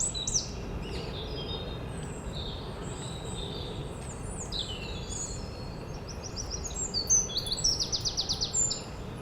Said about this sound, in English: Lovely loud wren.